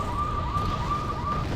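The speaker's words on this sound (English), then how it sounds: "that was the siren because I've surrendered Copenhagen to start the attack" A steady wailing siren tone sounds in the strategy video game Wargame Airland Battle, holding a high pitch with slight rises and falls, continuous and moderately loud over a low rumbling background.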